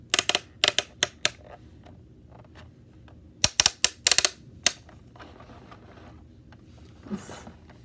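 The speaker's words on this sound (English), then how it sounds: "bumblebee that goes up and down." Hexbug Garden-go-round toy bumblebee moving up and down, giving bursts of sharp plastic clicks and rattling taps in quick clusters against a quiet background, with a softer scrape near the end.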